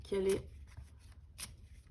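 Tarot cards are shuffled and drawn for a reading, a brief close riffle of cards followed by a soft flick and slide, quiet room tone between.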